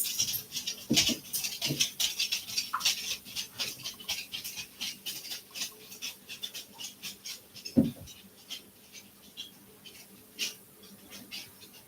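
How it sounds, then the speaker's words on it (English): A dog whimpers and pants softly indoors in a quiet room, with faint scattered whines, sniffs and small rustling noises spread across the clip, some slightly closer than others. "If I move too fast, the dogs will bark."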